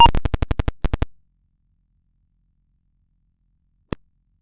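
The startup sound of the old computer game Odell Lake: a quick burst of about ten short electronic beeps in a rapid run, then silence broken by a single sharp blip near the end.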